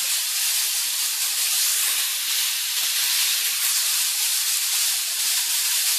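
Hamburger patties cook in a pan with a loud, continuous hiss of fat spitting, steady and close from start to finish with no voices over it.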